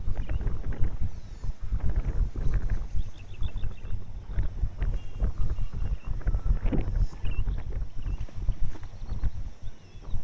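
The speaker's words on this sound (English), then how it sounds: "So this morning it's really windy" Heavy wind buffets a Sony Xperia PRO-I phone microphone in low rumbling gusts, loud and continuous, with faint clatter underneath.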